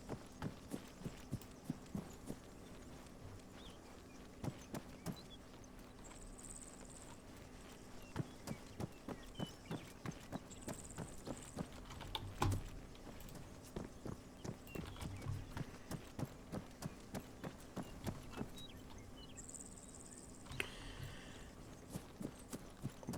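Footsteps in the video game Arma 3 Exile, a steady run of soft thudding steps in a quiet, faint in-game scene, with a few brief higher chirps drifting in over the ongoing pace.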